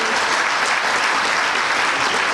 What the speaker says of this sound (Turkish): Selim Sinan Öztürk hocamızı alkışlarımızla yine buraya alıyoruz